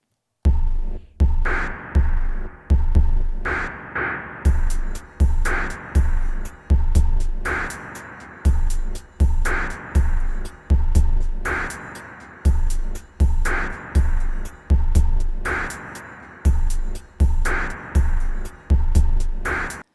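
A filtered electronic drum pattern from the Spitfire Audio Gaika War Island filtered snares patch loops steadily, with punchy low kicks and crisp snare hits repeating in an even groove, loud and alone.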